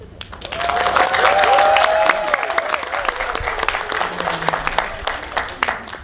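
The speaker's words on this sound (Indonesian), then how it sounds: "tepuk tangan untuk kita semua hadirin pada malam hari ini yang meriah" Studio audience applause at an evening televised Indonesian election talk show, steady dense clapping with cheers and whistles swelling early then easing slightly, loud and close.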